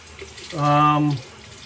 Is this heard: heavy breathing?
no